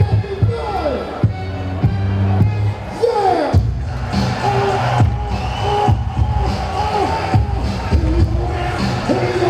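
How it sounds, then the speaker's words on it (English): Hockey crowd noise fills Veterans Memorial Arena during a high school game against Medford, a steady loud roar of an engaged audience with bursts of cheering and arena sounds under a play-by-play voice. "the crowd here at the Veterans Memorial Arena is certainly immersed in this game"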